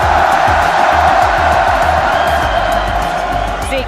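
A large crowd at a Fortnite Global Championship viewing party in Lyon cheers and whoops loudly and continuously, a dense sustained roar that fades only slightly toward the end.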